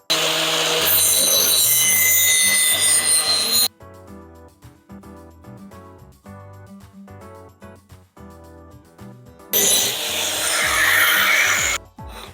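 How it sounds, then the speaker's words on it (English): An angle grinder sharpens a lawn mower blade in two loud, harsh grinding bursts, one at the start and one near the end, with a quieter tonal stretch between them. "Now we're going to use an angle grinder."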